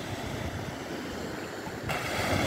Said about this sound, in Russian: Вон, волна идет.